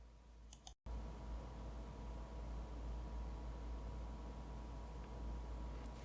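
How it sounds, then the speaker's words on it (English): A steady, loud broadband whir with a constant low hum, like a desktop computer's fans running, after a couple of brief clicks at the start. "That sound is actually my desktop running because it's pretty loud."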